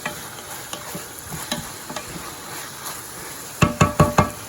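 A ham and onion mixture seasoned with black pepper sizzles in a pan for macaroni au gratin. Soft frying hiss runs under intermittent stirring scrapes, and a quick run of louder utensil knocks against the pan comes near the end.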